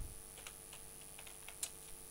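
A computer keyboard is typed on while code is written, with a few faint, scattered key clicks over a steady background hum.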